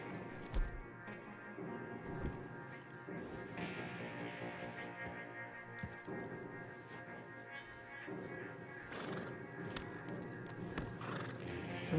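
A horse in the video game Red Dead Redemption 2 neighs and whinnies while its hooves clip-clop steadily, with faint background game ambience throughout.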